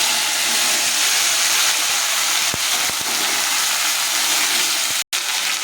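Vegetables dropped into hot mustard oil with cumin seeds hiss in a loud, constant sizzle, broken by a few soft clicks and a brief cut near the end. No one speaks.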